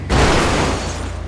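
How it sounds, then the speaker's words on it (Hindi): A heavy crash of a car dropped from a height in GTA 5, a loud booming impact with a broad rumbling tail that holds steady for about a second, with no talk over it. "चलिए इस गाड़ी का एक बार डैमेज भी हम करके देख लेते हैं, नीचे गिराकर"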